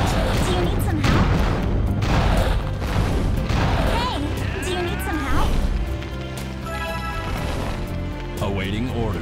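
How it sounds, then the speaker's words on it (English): Artillery bombardment in the online game Atlantica: heavy booms and crashing impacts roll continuously for several seconds, loud and dense, with game effects layered over a steady low rumble. "Commencing bombardment."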